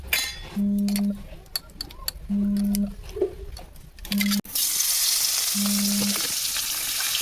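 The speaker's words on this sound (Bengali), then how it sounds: "মাছের মাথাটা ভাজবে, তাই আমি একটু তেল দিয়ে দিই।" Rohu fish head rubbed with salt and turmeric goes into hot oil, a burst of loud close sizzling that follows several short tonal beeps and a few metallic clinks of kitchenware.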